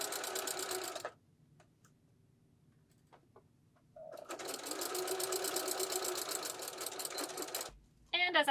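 A sewing machine stitches curtain fabric for a rod pocket curtain in two runs of fast, even mechanical whirring, a short burst and then a longer stretch of several seconds, separated by near silence and close to the listener.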